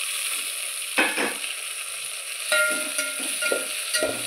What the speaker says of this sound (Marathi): तर आता आपल्याला 2 टोमॅटो टाकून घ्यायचे आहेत उभे चिरलेले, त्याला पण छान मिक्स करून घ्यायचे